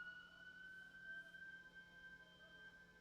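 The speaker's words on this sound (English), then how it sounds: "Damn ambulance." A distant ambulance siren holds a faint, steady high wail through the whole stretch, low in level beneath a quiet room hum.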